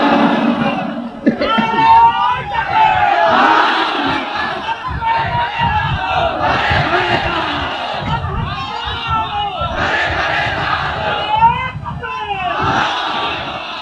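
A large crowd at a religious sermon shouts the takbir chant back in loud, repeated collective waves of voices that swell and fall over about fourteen seconds.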